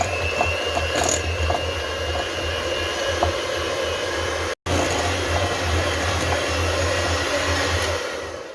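Electric hand mixer creaming sugar and butter in a home kitchen, a steady close whir running without a break apart from a brief cutout midway, with no talking.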